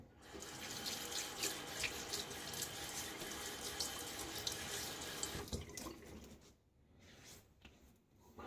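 Tap water runs steadily into a sink while a face is wetted during a shave, a close splashing flow for about five seconds before it stops and a few softer drips and handling sounds follow.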